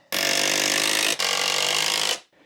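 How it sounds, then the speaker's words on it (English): A power drill drives screws into 2x4 wood while building a wall-mounted workbench, two loud close whirring bursts of about a second each with a brief dip between, then quiet. "basically just put a couple of screws in here to hold it in position"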